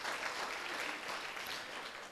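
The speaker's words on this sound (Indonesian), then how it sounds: "Yang percaya boleh tepuk tangan bagi Tuhan." Congregation clapping at an Indonesian church prayer-and-fasting service, a dense, steady wash of many hands applauding together, fairly faint and distant, sustained for a couple of seconds without voices.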